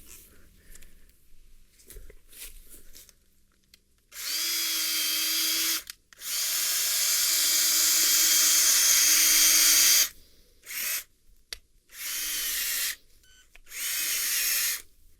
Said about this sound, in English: a giant drill bit that attaches to your power drill